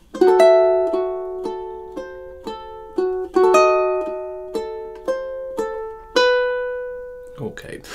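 Ukulele picking measures 21 and 22 of Ave Maria in even eighth notes, bright plucked notes ringing over each other, close and solo, ending with a brief string squeak as the hand lifts.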